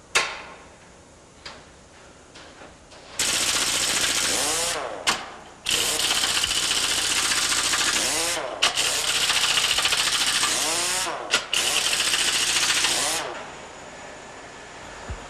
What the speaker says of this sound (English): First, the mold is bolted together.